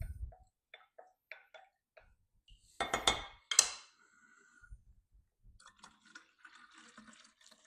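A homemade fruit and veggie wash containing glycerin is swirled in its container, giving a couple of brief sloshing splashes between light clinks and taps, close and fairly quiet.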